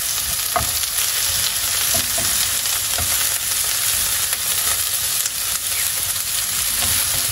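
Mushrooms sear in a frying pan with a loud, continuous sizzle close by, broken by occasional stirring scrapes and clicks, and no one talking.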